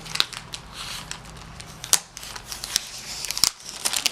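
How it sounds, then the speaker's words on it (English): Tape peeled off plastic comic book bags, heard as sharp rasping rips and crinkles in irregular bursts, close and fairly quiet, with no talking. "went ahead and took some of the tape off"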